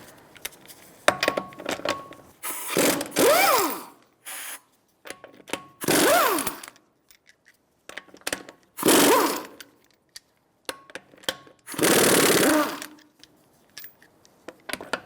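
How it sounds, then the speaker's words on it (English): Lug nuts come off a Nissan Altima wheel with a 21mm socket on a power tool, heard as five or six loud, close ratcheting impact bursts, each a second or so long, separated by pauses with small metallic clicks. "Now we're going to be taking off our wheel. I'm going to use a 21mm socket."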